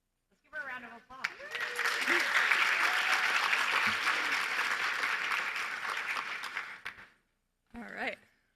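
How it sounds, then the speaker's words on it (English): Conference audience applauding a speaker as she comes up to present, steady sustained clapping for several seconds with a brief voice at the start and a short burst of talk after it fades. "give her a round of applause"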